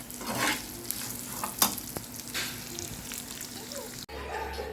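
Black sesame seeds frying in a pan with the gas just turned off, giving a steady close sizzle and crackle with a few stirring scrapes, cutting to a quieter low hum near the end.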